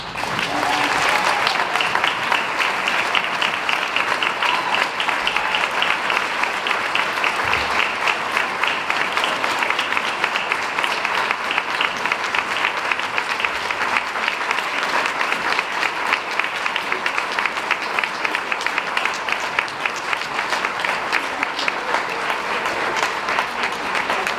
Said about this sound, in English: it is now time for this volunteer to get her own round of applause.